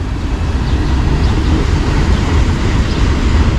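Railroad cars roll past close by in a steady, unbroken rumble of wheels and heavy undercarriage noise, with no voices.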